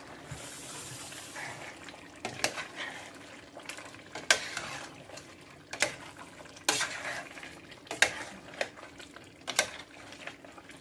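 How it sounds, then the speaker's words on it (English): A spoon stirs turmeric into mutton curry in a pot, giving a run of scraping, clinking strokes against the metal over a low simmering hiss, fairly close and steady with louder knocks spaced every second or so. "I am going to add 2 heaps of turmeric. Give that a stir"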